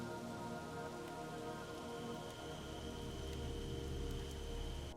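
Steady rain falls throughout a scene in the video game The Evil Within, a dense, even patter of drops hitting surfaces that stays constant and fairly soft, with no voices.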